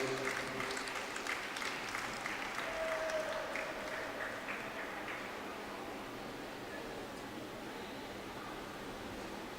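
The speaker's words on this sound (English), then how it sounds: "Let's have a round of applause for Isabel" Sustained applause from a distant crowd at a junior track cycling championship, a broad wash of clapping that slowly fades slightly over several seconds.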